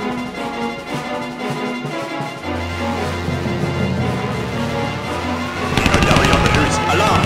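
Gunfire from a WWII North African tank strategy game, with scattered shots under music and a voice, then a loud, dense volley of rapid fire near the end.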